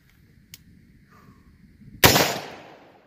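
A single sharp gunshot from a 125 grain SST round fired out of an 8.5 inch 300 Blackout rifle, loud and close, with a decaying echo after a quiet lead-in.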